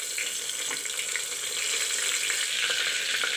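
Bay leaves sizzle in hot oil for a channa and potato curry, a steady bright frying hiss with faint crackles throughout, fairly loud and close with no voices.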